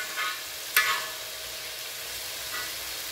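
Meat frying in a pan, a steady, quiet hiss of sizzling throughout with a brief sharper crackle or stir near the start, no talk.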